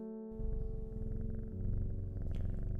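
A cat purrs softly and steadily in the Strange Horticulture video game, a low continuous rumble under a quiet sustained musical drone.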